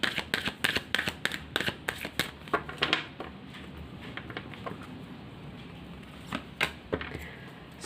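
Tarot cards are shuffled in quick bursts of crisp riffling and slapping, close and fairly quiet, with the rhythm thinning out partway before a few final flicks.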